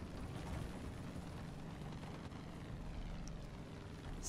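An airplane in the video game Far Cry 5 drones as a constant, even propeller-engine roar that holds steady throughout, with no talk over it.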